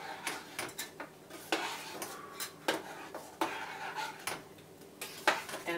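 Tomato soup is stirred in a pot, a quiet series of irregular clinks and scrapes of a utensil against the pot, close by with no talk.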